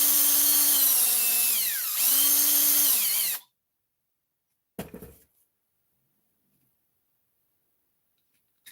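A power drill drives a screw during an RC car repair, a loud whirring run of about three and a half seconds with a brief pause and pitch dip, then silence broken by a short clatter.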